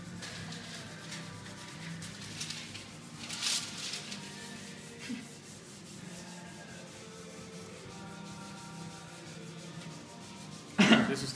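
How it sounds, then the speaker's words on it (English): Guitar frets are rubbed with 600 grit sandpaper during fret leveling, producing a steady, soft, close scraping that runs the whole time, ending with a brief louder scuff. "I'm going to finish the job with a 600 grit to get rid of the scratches of the 320."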